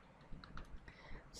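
Quiet, brief run of computer keyboard keystrokes while C++ code is typed, soft irregular clicks with no talk over them.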